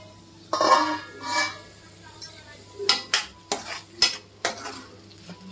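Vegetable bhaji of gola steaming in a covered pan on low gas, with stirring, scraping and clinks of a spatula against the pan in short bursts over a soft background hiss.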